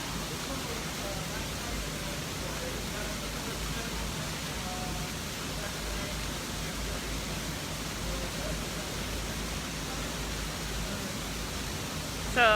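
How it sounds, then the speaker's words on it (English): Garden waterfalls rush in a steady, broad, even roar that fills the space without pause, with only faint background sounds beneath. "it's hard to hear in here over the waterfalls"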